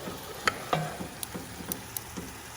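Turkey neck jambalaya gravy being stirred in a pot over an open fire, with a low bubbling sizzle and a few sharp spoon clicks and taps against the pot, fairly faint.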